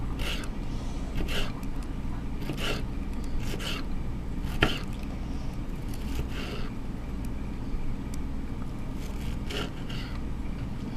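Tomatoes being chopped with a kitchen knife, a series of light, irregular taps on a cutting board spread across the stretch, fairly close, over a low steady background hum.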